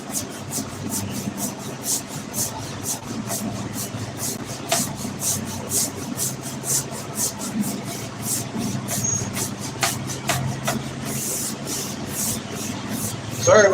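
Outdoors on a Florida porch, a distant lawn mower drones alongside an air conditioner's steady hum, a continuous broadband background noise with faint scraping textures and no speech.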